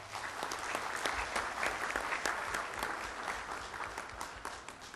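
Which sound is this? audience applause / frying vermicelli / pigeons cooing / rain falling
audience applause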